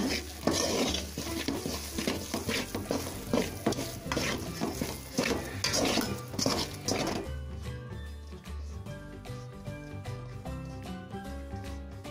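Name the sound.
stirring ghee mysore pak mixture in a pan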